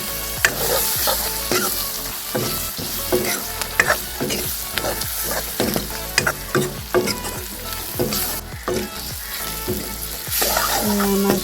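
Finely chopped tomato fries with spices in a pan over low gas for a pork dish, a loud continuous sizzle broken by rhythmic stirring scrapes and clatters, close up and with no talk.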